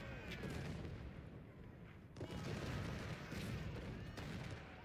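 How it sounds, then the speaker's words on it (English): Cannon fire in the Civil War battle game Ultimate General: Civil War, a dense, continuous rumble of distant artillery and musketry with occasional sharper booms, steady and loud throughout. "the cannons are doing a little bit of damage"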